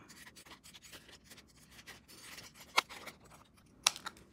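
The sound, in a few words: scissors cutting a plastic pattern template sheet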